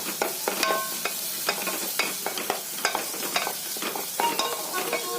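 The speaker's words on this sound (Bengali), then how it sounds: "আমি ভালো করে তেলের ওপরে বাঁধাকপি, পেঁয়াজ, রসুন, মাংসটা ভেজে নিচ্ছি" Cabbage, onion, garlic and chicken frying in hot oil, a steady close sizzle broken by repeated scraping strokes of a spatula stirring the pan, with no voices.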